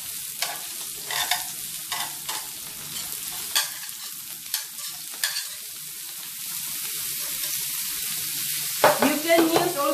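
Korean pork belly grills with bean sprouts and kimchi, a steady broadband sizzle with scattered sharp clicks and scrapes of stirring, growing busier and louder near the end, no voices.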